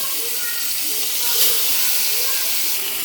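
The remaining fish fry in oil in a pan, giving a continuous close, even sizzle and hiss with little variation throughout.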